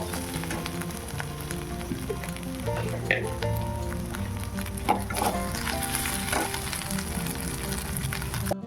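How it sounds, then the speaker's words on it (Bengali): Ginger garlic paste fries in a pan with a steady, soft sizzle and occasional stirring scrapes, close by and moderately quiet, with no talking. "আদা রসুনটাকে একটু ভেজে নেব"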